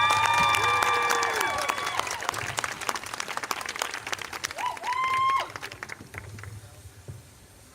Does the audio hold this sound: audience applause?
yes